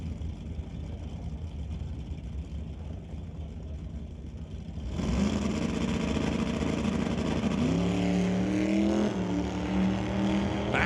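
Drag race cars, including a 2-liter turbo Volkswagen Golf R, launch with a sudden loud engine roar after a quiet idle, rising in pitch as they accelerate away and staying strong to the end.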